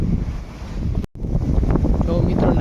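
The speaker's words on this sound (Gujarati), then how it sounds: "અત્યારે પવન ઉડ્યો અને સાટા ચાલુ થઈ ગયા ઝીણા ઝીણા." Strong wind whips through coconut trees at night under a light drizzle. The gusts roar loudly and steadily against the microphone, with a brief cutout shortly after the start.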